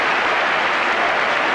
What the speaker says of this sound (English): And just listen to the applause of the crowd